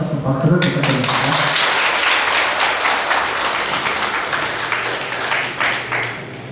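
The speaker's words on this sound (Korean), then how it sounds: "오늘 해주신 일단다 합창단에 다시 한번 박수를 부탁드립니다." Sustained applause from an audience for a choir at a Buddhist university entrance ceremony, dense steady clapping that fills the hall and holds loud throughout before easing slightly at the end, with a voice faintly audible at the start.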